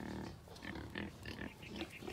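Pig grunts on a farm, several short low grunts repeating in irregular bursts, steady and fairly close with mixed squealing tones.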